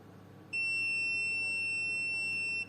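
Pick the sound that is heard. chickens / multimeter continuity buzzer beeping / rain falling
multimeter continuity buzzer beeping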